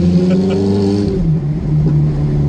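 A Ferrari engine revs inside a small tunnel, a loud, close, harmonic roar that climbs, then drops in pitch and settles into a steady lower drone.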